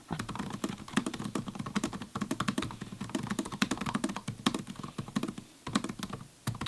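Rapid clicking keystrokes on an HP laptop keyboard, a steady run of close, light plastic taps with brief pauses and no voices.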